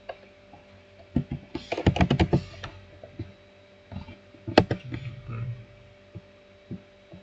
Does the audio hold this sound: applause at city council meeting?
no